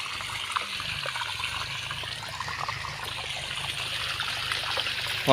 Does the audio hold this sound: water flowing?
yes